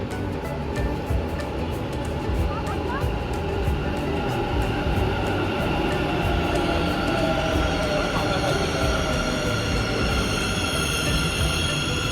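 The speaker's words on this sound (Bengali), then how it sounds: "ট্রেনটা আসছে" A Bangalore metro train pulls into a station with a continuous loud rumble of wheels on rails, thin squealing tones building toward the end, and faint voices in the background.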